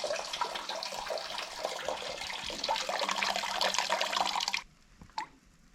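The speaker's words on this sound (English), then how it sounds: "I just dip it in the pail, pour it in the bottle." Homemade hard apple cider poured from a pail into 470 ml bottles, a continuous close splashing pour that stops abruptly near the end and leaves a short drip or clink.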